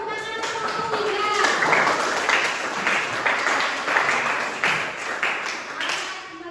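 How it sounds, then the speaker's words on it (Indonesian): Classroom applause for a student group in a chemistry lesson, many hands clapping in a dense, sustained burst that fills the whole stretch at steady strength. "Meriah sekali tepuk tangannya."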